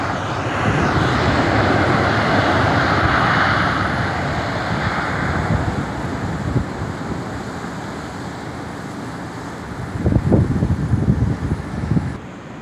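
A Copa Airlines airplane lands at Tampa Airport, heard as a loud, broad engine roar that slowly fades and ends in a rough gusty rumble, with wind noise and no voices.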